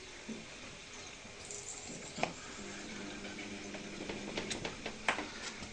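Cooling fan of a Vitals 500 portable charging station running as a steady, fairly quiet mechanical whir, with a few faint clicks and taps over it.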